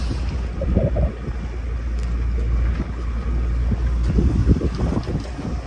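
Wind buffeting a sailing boat at sea in Greece, a steady rumbling gust noise against the microphone with low hull and water wash underneath, no voices.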